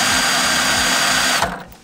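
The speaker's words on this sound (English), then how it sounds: "put your drill on the lowest setting, because it doesn't need to be going crazy quick" A cordless drill on its lowest setting spins a reel mower reel backwards for backlapping, producing a loud continuous whir with a rhythmic low thump each rotation before the drill stops and winds down.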